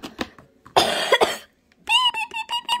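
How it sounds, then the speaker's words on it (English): A person coughs several times in quick succession, a couple of short close coughs at the start, then a longer rough burst in the middle, followed by a sharper run of bursts near the end. "I had to cough a little"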